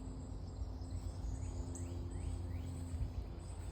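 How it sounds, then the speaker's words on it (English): Birds chirp and tweet faintly in a spring morning garden with fruit trees, their short calls scattered over a steady low rumble, likely a distant plane. "all you really hear this morning is birds."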